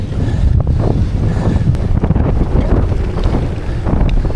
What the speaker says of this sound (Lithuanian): vėjas tai tikrai be galo stiprus šiandien